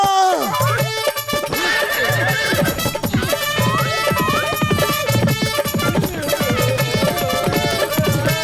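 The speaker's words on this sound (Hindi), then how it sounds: "ये घोड़ा तो बहुत खतरनाक है।" A cartoon horse neighs and whinnies over a busy, loud musical score with repeated hoof-like thumps, the sound filling the whole stretch of the comedy scene.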